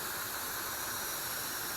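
A pressure canner holding meatballs and ground beef vents a steady, close hiss of steam for its full length, unbroken and even. No one speaks.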